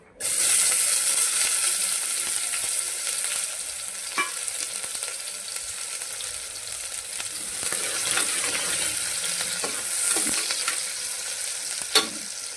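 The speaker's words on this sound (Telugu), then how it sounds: "ఇందులోకి ఒక ఉల్లిపాయ కట్ చేసుకొని వేసుకోవాలి." Chopped onion frying in hot oil for a Telugu-style curry, a steady bright sizzle running throughout with occasional soft stirring clicks and no talking.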